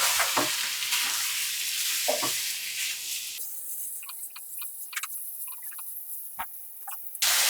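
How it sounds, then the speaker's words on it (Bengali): Fish gravy in a pan with tomato sauce going in, giving a strong close sizzle and stir scrapes that cut off midway to quieter light ticking and clicks, no voices. "এখন দিয়ে দিচ্ছি 1 কাপ টমেটোর সস"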